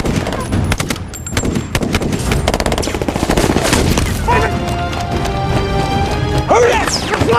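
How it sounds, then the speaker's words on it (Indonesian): Chaotic gunfire exchange from a war film, bursts of shots, crashes and impacts layered over a dense dramatic mix with shouting voices, loud and continuous throughout. "serangan susulan tiba-tiba datang dari gerbang belakang dan terjadilah baku tembak"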